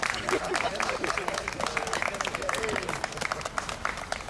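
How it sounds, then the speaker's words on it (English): Applause from an outdoor crowd at a community tree-planting ceremony in Clowes Park, Salford, honouring the children, steady dense clapping lasting the whole stretch with some voices mixed in. "I think we should give the children a round of applause"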